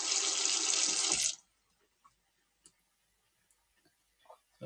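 Water pours from a tap into a kitchen sink as a half tin of black beans is drained, a loud steady gush lasting just over a second before cutting off, followed by a few faint clinks and taps.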